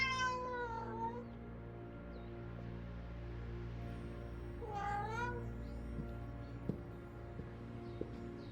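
A cat meows twice in a video game adaptation of Vertigo, each a clear, drawn-out falling cry, the two spaced several seconds apart over a quiet low hum, with a couple of faint ticks afterward.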